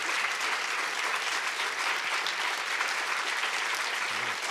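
Sustained applause from an audience at a film festival talk on editing, a dense, steady wash of many hands clapping at even loudness throughout, with no voices above it.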